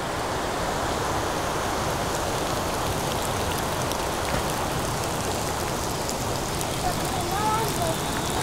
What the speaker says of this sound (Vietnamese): Mưa rất là to luôn.